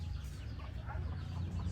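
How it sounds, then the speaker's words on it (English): Soft, irregular clucking from a wild chicken in a Balinese village, a few short calls at middle distance with no voices. "Wild chicken."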